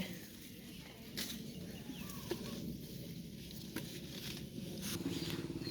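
Steady rain pours down at an elephant shelter where two elephants take cover, a dense continuous patter with a few faint bird and animal calls mixed in and no talking.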